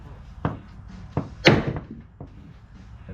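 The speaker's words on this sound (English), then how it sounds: "Take a big hammer" A big hammer knocks on a Honda CRX axle during an axle replacement, giving a few sharp metallic thunks spaced irregularly, one louder blow in the middle, close and alone.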